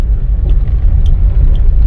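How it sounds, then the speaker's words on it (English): A 2016 Nissan Almera 1.5 drives over harsh, uneven terrain with a low, quiet engine note, heard as a steady deep rumble inside the car with faint road noise and no talking. "the engine note here is very quiet, very low"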